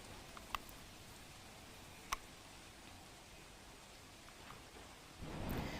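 Steady soft hiss of light, unseasonal rain falling in Gujarat, with a couple of faint clicks and a louder rush near the end.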